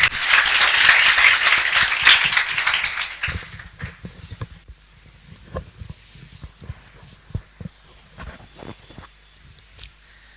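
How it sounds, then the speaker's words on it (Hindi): Enthusiastic audience applause for a young man named Hariom, a dense burst of many hands clapping loudly for about three seconds, then thinning into scattered, isolated claps and shuffling. "तो एक बार हरिओम के लिए जोरदार तालियां।"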